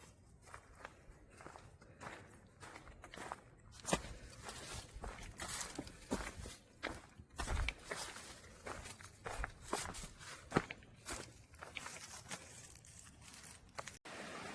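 Footsteps scrambling over rocky boulders on a Virginia section of the Appalachian Trail near a creek, a steady run of close crunching, scraping steps with occasional sharper knocks, no talking.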